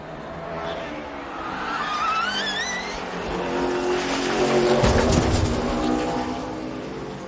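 Stock race cars at Watkins Glen roar close by with rising and falling engine notes and tire squeal, then a sharp crunch of contact and impact midway, under excited commentary.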